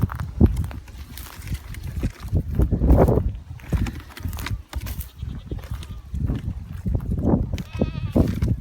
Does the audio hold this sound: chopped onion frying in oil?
no